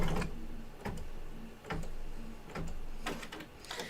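An embroidery machine stitches a snowflake in-the-hoop quilt block, a close mechanical whir punctuated by regular ticking clacks roughly every second, with no talking.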